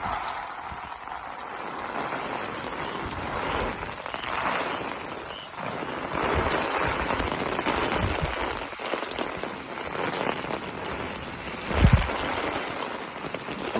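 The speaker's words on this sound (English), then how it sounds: "Raining sideways and upways and diagonal ways" Heavy rain from Hurricane Milton pours steadily and densely, a continuous hiss with wind gusting through it and a brief louder thump near the end. No one talks.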